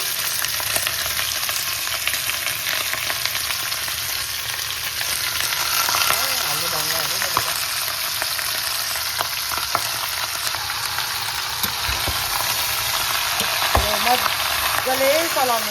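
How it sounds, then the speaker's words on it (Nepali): About two kilograms of rice sizzles steadily in hot oil in a cooking pot while being stirred, with scraping stir strokes breaking through the constant close, loud frying hiss. "मजाले चलाउनु पर्यो र हुने गरी भुट्ने हो"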